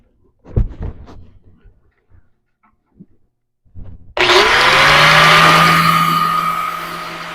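A power grinder bites into metal on a Smith Miller GMC custom ramp truck: a few soft knocks and handling sounds, then a loud, steady, harsh grinding whine that starts abruptly and runs to the end with no talk.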